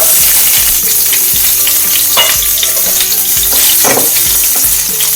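Chopped garlic, ginger and onion dropped into hot oil with fenugreek seeds, frying in a loud, steady, close sizzle throughout, with occasional stirring scrapes and no voices.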